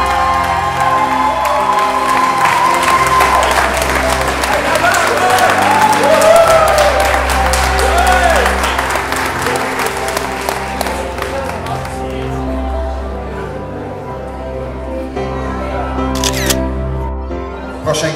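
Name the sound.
audience applause for volunteer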